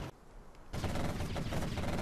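Rapid automatic cannon fire from a GLA quad cannon in the strategy game Command & Conquer Generals, a short sudden burst of dense repeated shots breaking in after a quieter moment.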